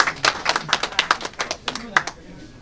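A few people clap at a hospital fundraising birthday celebration, a short run of sharp, fairly close hand claps at an uneven pace with voices talking around them.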